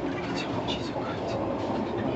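Inside a GWR Hitachi Class 802 train, unit 802106, running between London Paddington and Slough, a dense, steady rumble of wheels and carriage noise fills the cabin without a break.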